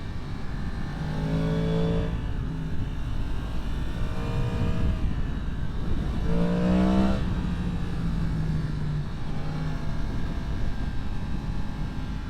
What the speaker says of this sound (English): Aprilia. Sounds glorious, like all Aprilias do.